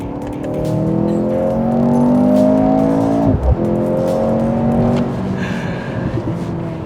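A Mercedes-AMG C 43 accelerates hard in Sport Plus mode, its engine revving loudly and rising in pitch, then dipping briefly around a shift before climbing again. The sound stays close and steady with no talk.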